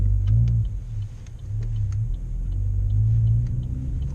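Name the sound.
manual car engine as driver eases in clutch and gas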